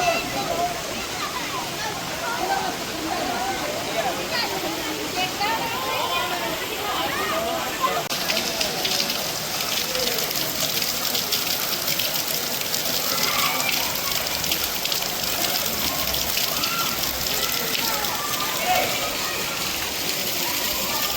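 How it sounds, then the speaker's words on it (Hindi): Mountain water from the Banganga river pours and rushes steadily near a temple in Katra, a broad continuous splashing roar that brightens partway through, with someone speaking faintly beneath it. "देखो पहाड़ों से आने वाला ये जल है।"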